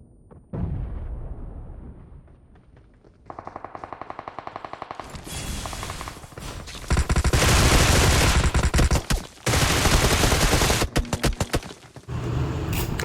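Gunfire in the BGMI battle game: loud, dense bursts of automatic rifle fire and heavy blasts, with rapid rattling volleys that come in sustained waves and drop out briefly between them.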